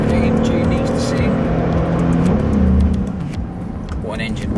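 A Mercedes-AMG V8 car runs on a race track, its engine a loud, steady roar that eases off partway through, with a voice speaking over it.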